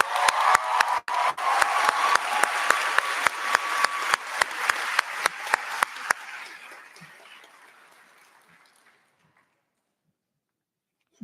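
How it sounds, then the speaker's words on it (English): Audience at a high school graduation ceremony, applauding with loud crowd clapping and a rhythmic unison beat that gradually dies away into silence. "Please give a round of applause for Savannah Mobley."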